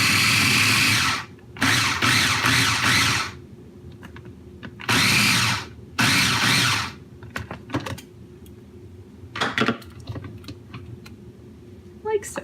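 A blender purees fresh tomatoes for tomato sauce in loud whirring bursts, two long runs and then two shorter ones, separated by quiet pauses filled with clatter and handling noises.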